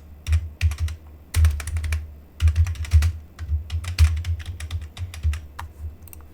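Fingers typing code on a computer keyboard, close up, a quick irregular patter of key clicks and thumps in short bursts with brief pauses, alone without talk.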